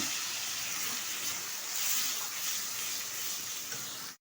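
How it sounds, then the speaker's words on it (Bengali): A little water poured into frying onion, ginger and garlic paste in a pan, giving a steady loud sizzle that holds evenly throughout, with no talking. "দিয়ে দিচ্ছি সামান্য পরিমাণে একটু জল।"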